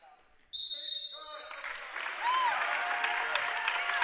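A high school varsity boys basketball crowd in a gym rises into loud, sustained cheering and applause for the Trojans, with a sneaker squeak or whistle-like tone just before it swells. Commentary runs over the crowd noise.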